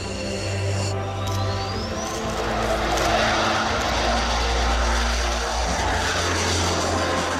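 A pilotless fighter jet flies overhead with a loud, continuous engine roar and a steady low rumble that persists throughout.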